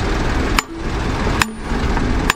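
A hammer strikes a fire hydrant three times at a steady, slow rhythm during a spring fire-prevention inspection, each hit a sharp metallic clank, close and distinct over outdoor background noise.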